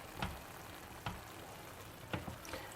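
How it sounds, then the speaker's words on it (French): Sardines being laid one by one into a hot frying pan over a soft continuous sizzle, with several short crackling bursts as each fish meets the oil; close and fairly quiet, no talking. "Donc là, on commence à poser les sardines tout au long"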